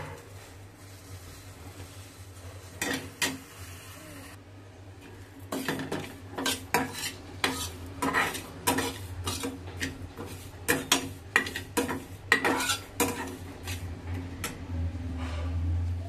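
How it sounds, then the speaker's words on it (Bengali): Broken wheat dry-roasted in a pan, heard as repeated clinking scrapes of a spoon against metal, sparse at first then a steady run of sharp knocks close by, with no talking. "ডালিয়াটা এখানে একটু ভেজে নিই, হালকা ভেজে তারপরে একবারে প্রেসার কুকারে দিয়ে দেবো।"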